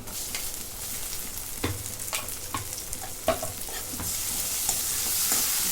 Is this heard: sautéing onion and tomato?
yes